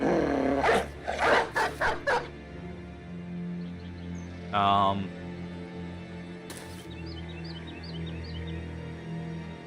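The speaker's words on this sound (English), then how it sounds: "let's send out some dogs" Several short dog barks in the video game Battle Brothers come in a quick burst near the start, then other game sounds and effects follow over a steady low background hum.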